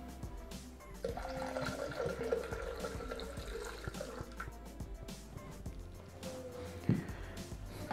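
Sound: pouring iced sparkling water into Thermomix jug

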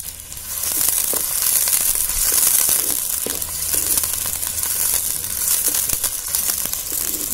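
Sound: onion and garlic greens frying in hot oil

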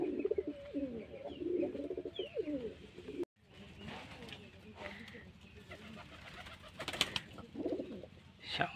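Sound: pigeons cooing

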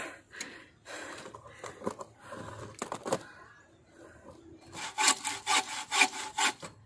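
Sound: bow saw cutting coconut palm wood

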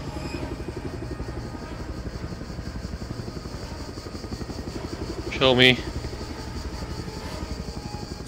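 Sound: helicopter flying in video game Just Cause 2

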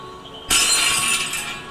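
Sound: glass breaking as paint pushed down, Stray video game

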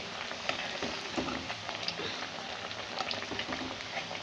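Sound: cutlets frying in a pan

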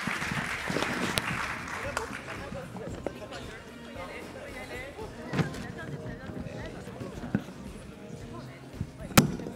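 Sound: applause for the panelists

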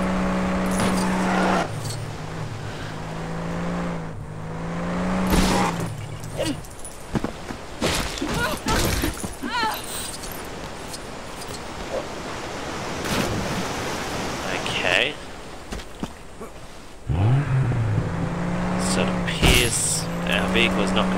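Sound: vehicle driving in Lego Jurassic World video game

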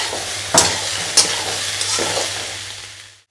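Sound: frying soybean chunks in a pan

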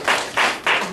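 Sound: congregation hand clap

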